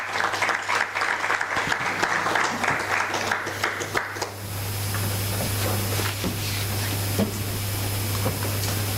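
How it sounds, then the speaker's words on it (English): A conference audience applauds a speaker taking the stage: brisk, dense clapping for about four seconds, then it gives way to a quieter room with a steady hum and scattered faint sounds. "A round of applause, colleagues."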